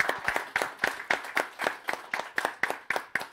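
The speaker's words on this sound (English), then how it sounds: "Let's have a round of applause for that." Steady, evenly spaced claps, about a dozen in a regular beat, sound fairly quiet and close, like a small audience or a single person applauding at a virtual community event.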